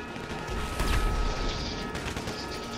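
Gunfire hits the player during a heist video game, a dense burst of impacts and shots that rises sharply then continues as a rough, steady barrage, fairly loud throughout.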